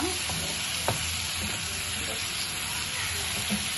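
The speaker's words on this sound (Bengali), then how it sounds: "এখন একটু নেড়ে দিচ্ছি তেলগুলোর ভিতরে মশলা টসলা টোসার জন্য" Spices being stirred into sizzling fish oil from a shapla fish in a frying pan, a steady close hiss and crackle with occasional soft scrapes of the spoon.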